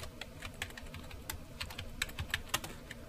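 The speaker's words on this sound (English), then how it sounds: "I'll type in my name." Quiet, rapid keystrokes on a computer keyboard, an uneven patter of close, light clicks with no talking.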